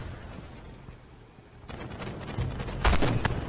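A tank cannon shot in the video game Armored Warfare, from a Super Patton tank: a low engine rumble, then a sudden heavy blast with a sustained booming tail, with no talking.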